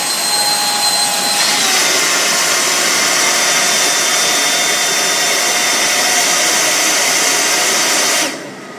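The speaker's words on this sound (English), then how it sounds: "You pull that trigger, you get the 9-second blast, fill in the bag." A Black Diamond Jetforce avalanche airbag fan blasting loudly and steadily as it inflates the bag, a constant close whooshing roar that cuts off sharply after about eight seconds.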